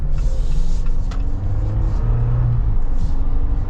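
A 2023 Jeep Wrangler Rubicon with the 2.0 turbo engine and 4.10 axle ratio accelerates hard from a stop, a steady close engine drone with rising tones through the run and no talk over it.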